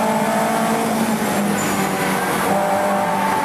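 BMW Compact Cup race car lapping Snetterton in 2013, heard on board as a steady, loud engine drone with continuous tyre and wind roar, no break throughout.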